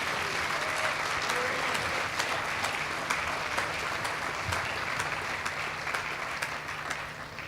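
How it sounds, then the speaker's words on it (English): Sustained audience applause fills a Hall of Fame induction ceremony hall, steady and dense with many hands clapping at once, loud and continuous from start to finish with no voices rising above it. "can you please give them all another round of applause?"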